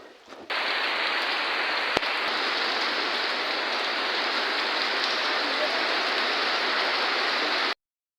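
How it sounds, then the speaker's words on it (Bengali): Heavy rain pours down steadily during a storm, a dense, even hiss that starts abruptly and holds at a constant loud level before cutting off, with no voices over it. "দেখেন কি বৃষ্টি নামছে।"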